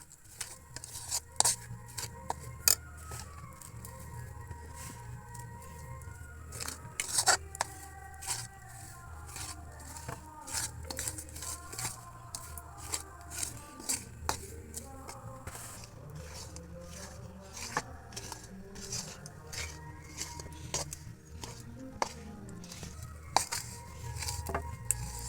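Sesame seeds being stirred into melted jaggery in a pan for til laddu, a spoon scraping and clinking steadily against the metal for the whole stretch with a soft low sizzle underneath.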